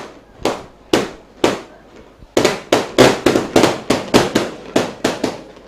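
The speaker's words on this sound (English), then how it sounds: "Firecrackers going off, maybe some that were bought." Firecrackers go off at a Trinity College v St. Anthony's College schools rugby league match: sharp, loud bangs, a few spaced out at first, then a quick irregular string of about a dozen more echoing outdoors.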